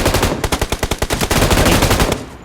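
Rapid automatic gunfire from the game PUBG on the Metro map, a loud burst of evenly spaced shots running about two seconds before cutting off.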